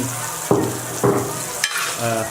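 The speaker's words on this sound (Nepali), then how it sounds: "यहाँ पनि तयारी हुँदैछ, फ्राई हुँदैछ।" Ghogi curry frying with chili in a pan, a steady sizzle under a few clear scraping stirs and light utensil knocks against the pan, close by.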